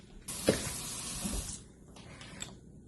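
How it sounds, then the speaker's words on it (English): Grapefruit rinsed under a running kitchen tap: a burst of water spray and splashing in a sink for about a second and a half, then softer trickles and handling sounds nearby. "I already washed it, so I'm going to rinse this off."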